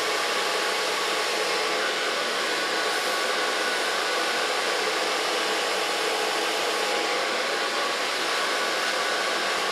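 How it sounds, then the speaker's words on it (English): A handheld hair dryer blows steadily and loudly close by for the whole stretch while a brush works through a short platinum blonde pixie cut, with no voices over the even rushing whoosh. "And so I'll dry her hair."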